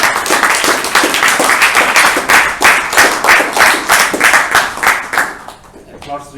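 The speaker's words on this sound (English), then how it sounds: "Applause really sound really great in this hall, right?" A Toastmasters club meeting hall fills with close, loud rhythmic clapping from a room of members, the claps falling in a fairly steady beat before tapering off near the end.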